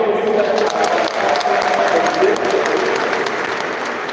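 An audience at a church gathering gives sustained, dense clapping for several seconds, close and loud, with voices mixed into the applause.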